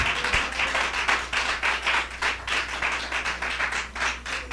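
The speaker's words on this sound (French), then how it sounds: "Two people are clapping." An audience claps steadily, a dense continuous patter of many hands at a religious gathering, fairly loud and close, with no voices over it.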